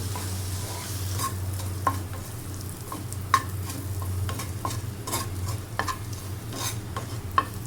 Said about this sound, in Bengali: চিকেনটা কিছুক্ষণ ভেজে তারপরে আমরা তুলে নেব